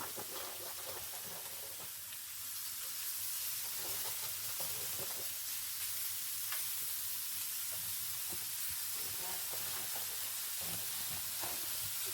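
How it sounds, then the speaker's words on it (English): Chopped frozen onion sizzles steadily in a hot pan for a chicken and rice dish, a continuous close hiss with occasional crackles and stirring scrapes, no voices. "I'm going to add some onion here as well"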